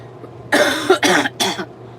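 Three harsh coughs in quick succession, close and loud, over a low steady hum.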